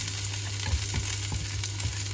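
Garlic and onion frying in a pan, a steady close sizzle with light stirring clicks, no talking.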